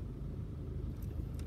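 Inside a moving car, a steady, quiet low road rumble and engine drone continue without pause, with no one talking.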